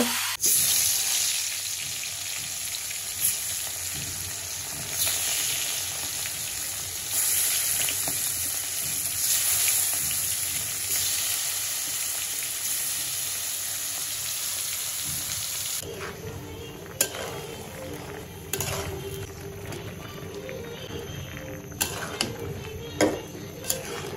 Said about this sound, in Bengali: সিদ্ধ করা কচুরলতি এখন দিয়ে দিব।